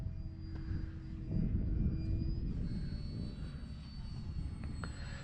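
An FMS Ranger 1220mm RC trainer plane flies past, a steady electric motor whine with a high pitch that drifts downward, over a low rumbling wind and background noise and swelling briefly in the middle.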